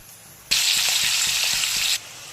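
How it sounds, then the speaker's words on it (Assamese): Oil in a kadai wok erupts into a loud, close sizzle that starts abruptly, holds as a bright steady hiss for about a second and a half, then cuts off sharply. "প্ৰথমতে মই কেৰাহী এখনত তেল গৰম কৰি ল'ম"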